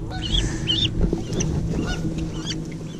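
A little gosling honks near water in a series of short repeated calls, close and clear over a steady low outdoor rumble.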